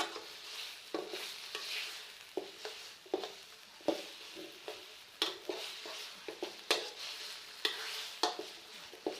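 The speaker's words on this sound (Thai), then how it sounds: "ค่อยๆผัดเข้าไปเรื่อยๆนะ" Pork belly being stir-fried with southern Thai curry paste in a pan, with rhythmic scraping stirs and bursts of sizzle repeating every second or so, fairly quiet and close, no voices.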